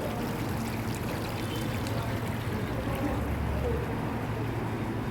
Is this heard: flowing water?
yes